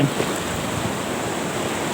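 High-tide monsoon surf at Hua Hin beach makes a steady wash of waves, a broad continuous rush with wind noise on the microphone and no voices.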